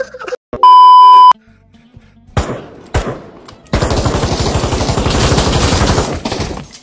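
Rapid automatic gunfire from a weapon in the VR shooter game Pavlov, a loud sustained burst of closely spaced shots lasting a few seconds, preceded by a steady electronic beep and a few scattered single shots.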